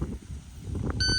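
An electronic shot timer at a carbine and pistol class gives a short, sharp beep that comes in at the end of a quiet moment with faint background noise.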